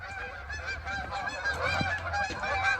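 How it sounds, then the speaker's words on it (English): A low-flying flock of geese honks continuously and overlapping, many calls close and loud together in a dense chorus. "here come the geese"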